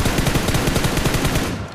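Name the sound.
gunfire in video game BGMI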